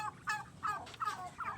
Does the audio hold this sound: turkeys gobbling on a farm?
yes